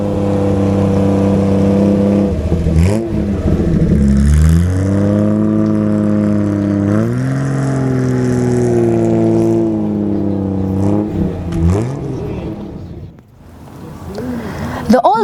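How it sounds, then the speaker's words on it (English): A classic Jaguar XK sports car engine revs loudly and repeatedly, rising and falling in pitch, close by with a deep throaty tone. "The engine sound is truly something else."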